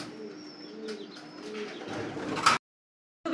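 Lahori pigeons at a pigeon farm coo softly in repeated low rolling calls, faint and close, with a brief sharp sound before the sound drops out.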